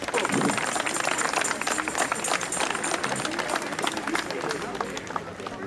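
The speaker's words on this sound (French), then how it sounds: "on applaudit les enfants" Crowd applauding children at an 11 November remembrance ceremony in Châtillon-sur-Seine, a dense steady outdoor clapping throughout with voices talking over it.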